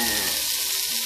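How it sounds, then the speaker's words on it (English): Onions and garlic sizzle and fry in a hot pan with a steady, close hiss that fills the whole short moment, with no voices over it. "So we're going to get these onions sauteed."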